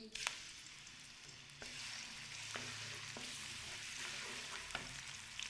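Steady sizzling of garlic paste browning in oil, with occasional scraping knocks of a spoon stirring the pan; no voices.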